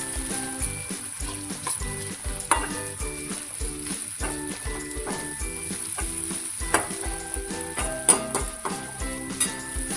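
Chopped tomato sautéing in a pan for a spicy cabbage curry, a soft continuous sizzle with frequent scrapes and taps of a spatula, close up beneath a layer of background music.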